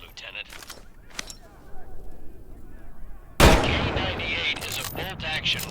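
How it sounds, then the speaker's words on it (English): Karabiner 98K bolt-action rifle fire in the Medal of Honor World War II shooter game, a few sharp shots with a sudden loud blast partway through, mixed with game sounds and a voice talking. "K98 is a bolt-action rifle, so you reload by pulling and pushing the bolt after each shot."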